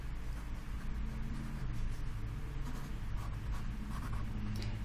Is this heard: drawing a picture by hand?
yes